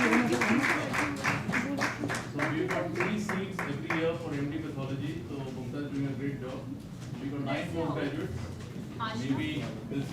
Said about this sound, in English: Applause for our junior residents who are sitting behind.